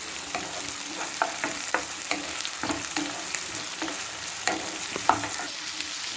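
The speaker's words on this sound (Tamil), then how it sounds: "தக்காளி நல்லா வதங்கணும்." Onions and tomatoes sautéing in a pan for a sankara fish curry, a steady close sizzle with the repeated scrape and clack of a spoon stirring, no talk.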